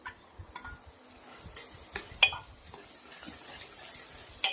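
Potatoes go into a pan of frying tomatoes and onions and get stirred, giving soft sizzling with scattered scraping clicks of a spoon against the pan, fairly quiet and with no talking.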